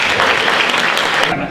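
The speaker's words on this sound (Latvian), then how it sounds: "Kur mums te aplausi palika?" Loud, dense applause from a studio or hall audience at a local Garkalne news show, a steady wash of many hands clapping that cuts off abruptly near the end.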